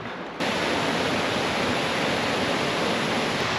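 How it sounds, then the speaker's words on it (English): Water runs down a steep mountainside on the Appalachian Trail. After a brief quiet moment it rushes in as a steady, full, hissing roar, close and continuous, with no talk. "This water is just flowing down the mountain."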